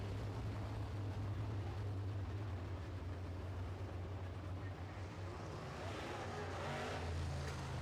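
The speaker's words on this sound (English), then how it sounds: "The number 14 car of Aaron Olson currently leading the way." Modified race cars circle a Red River Co-op Speedway heat race in Winnipeg, their engines a distant, continuous droning roar with a low rumble that swells slightly near the end, faint beneath the track atmosphere.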